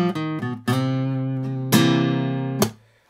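A bluesy guitar lick on what sounds like clean electric guitar: a few quick picked notes, then sustained bent tones ringing out before fading.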